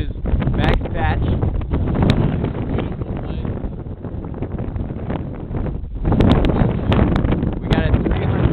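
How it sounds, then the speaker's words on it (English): Strong wind buffets the microphone on the open summit of Max Patch, a mountaintop with wide views, roaring steadily with louder gusts near the start and end, with people talking faintly under it. "The wind's bad up here"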